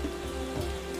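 Rain falling in the video game Final Fantasy XIV, a steady soft hiss of drops with a low ambient hum beneath, continuous and even throughout.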